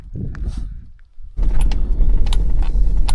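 Getting back into a parked car after a quiet lookout: soft rustling and a few low thumps, then a loud close door slam followed by cabin rumble, a light jingle and small clicks of settling in.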